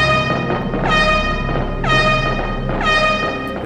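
A car horn in the 1998 Resident Evil 2 game blares repeatedly in long, loud honks roughly once a second over a steady low rumble, with no voices.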